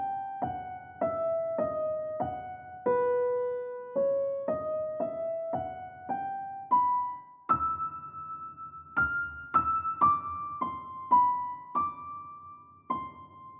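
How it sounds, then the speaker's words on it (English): A solo piano melody in an orchestral arrangement plays clear single notes at a steady, moderate pace, each note ringing briefly before the next, alone and close. "for now, our morning piano sounds like this."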